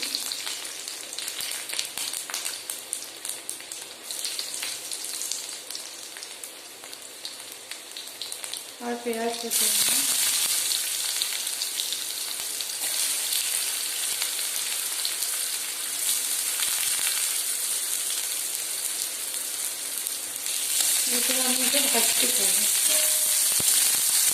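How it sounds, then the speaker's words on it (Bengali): Whole cumin, dried red chilies and garlic frying in hot oil, a steady sizzle that jumps sharply louder partway through as more goes into the pan, with occasional clinks of stirring. "গোটা জিরা দেব গোটা জিরে শুকনো লঙ্কা রসুন দেবো"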